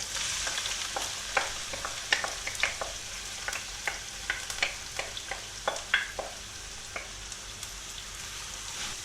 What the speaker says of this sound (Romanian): Punem uleiul la încins într-o tigaie adâncă. După ce s-a încins, adăugăm ceapa.